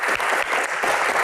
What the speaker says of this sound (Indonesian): kasih tepuk tangan buat Gian